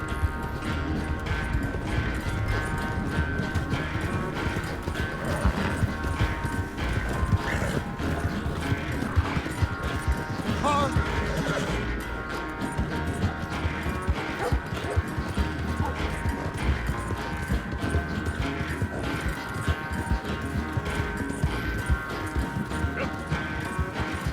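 Horse galloping hard during a race in a video game, a dense continuous clip-clop of hooves over rumbling movement and a sustained music-like drone, with occasional mechanical rattles.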